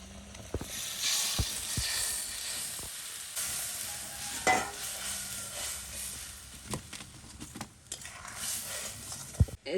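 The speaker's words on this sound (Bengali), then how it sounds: "অল্প একটু লঙ্কা পাউডার দিয়ে দিচ্ছি কাঁচা লঙ্কা তো বাইটে দিছি আবার একটু পাউডার লঙ্কা রঙের জন্য দিয়ে দিলাম এবার ওর মধ্যে গরম জল দিয়ে দেব" Chili powder sizzling in a pan as hot water goes in, a faint continuous frying hiss with scattered stirring knocks and clatter.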